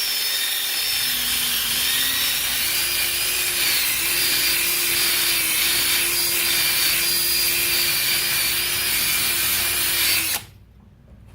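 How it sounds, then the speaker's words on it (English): Steady wet sanding of a guitar's finish, a continuous rubbing hiss with a faint droning tone, loud and close, running about ten seconds before stopping abruptly. "I barely wet sanded this, and I barely hit it"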